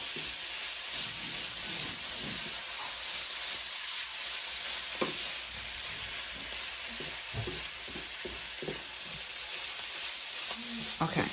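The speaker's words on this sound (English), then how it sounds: "I gotta stir my lunch" Cauliflower rice with turkey meat, cabbage, spinach and mushrooms sizzles steadily in a pan while a utensil stirs and scrapes intermittently, close and moderately quiet.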